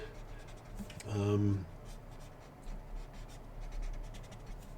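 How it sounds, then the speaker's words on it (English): An art marker scribbles quick sketches on paper, a faint dry scratching that runs steadily beneath a brief stretch of voice. "Sometimes as you scribble and you kind of do these really quick sketches"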